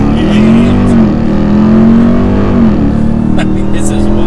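A RAM TRX Hellcat pickup truck accelerates hard from a launch, its engine a loud, sustained drone that rises slightly in pitch. Voices talk over the engine.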